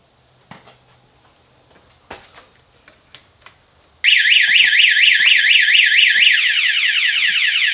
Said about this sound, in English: if someone tries to turn on the bike, the alarm will go off